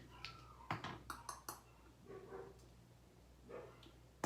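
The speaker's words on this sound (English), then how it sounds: "There goes my dogs again." Dogs bark somewhere off in the distance in a home, a few faint sharp barks heard alone with some light clatter.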